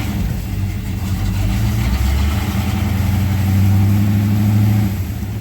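An engine runs steadily in first gear on a cold home-built car, a loud, continuous low rumble that swells slightly midway, heard alone.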